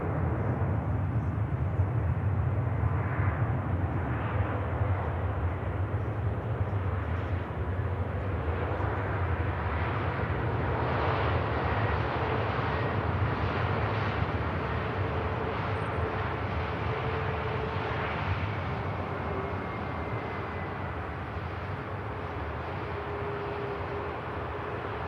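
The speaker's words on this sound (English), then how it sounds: "KLM touching down right on the hump there." A KLM airliner landing at Manchester Airport gives off a distant, steady jet roar across the airfield, rising slightly and then easing off as it touches down and rolls out, with no one talking.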